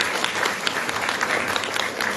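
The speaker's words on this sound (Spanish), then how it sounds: "Aplausos para él," An audience at a talk about the chocolate maker La Ibérica applauds its invited engineer speaker with brief, dense clapping that stays steady at moderate volume.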